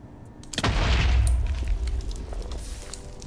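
A bed placed in the Nether in Minecraft blows up with a single loud, close boom that rolls into a long rumbling tail and fades over a couple of seconds.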